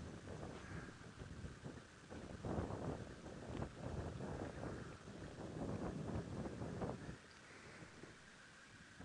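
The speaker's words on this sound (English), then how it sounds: "you can probably hear it's quite windy at the moment." Strong gusty wind buffets the microphone in a steady roar during an outdoor safari drive, rising and falling in waves, with no voices.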